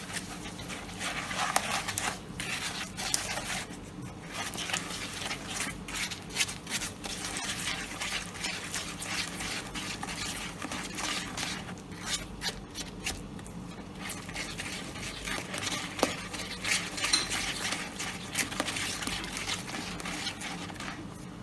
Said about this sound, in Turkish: Güzelce çırpıyoruz.